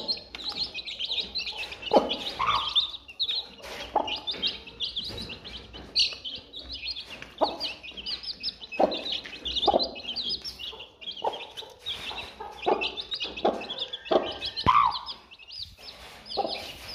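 Village chickens and roosters being fed grain cluck and chirp continuously nearby in a busy, overlapping flock chatter with irregular louder calls.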